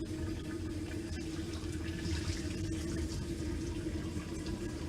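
Cold tap water runs steadily into a kitchen sink while cooked food is being strained. The flow is a constant, close rush with a faint hum underneath and no talk.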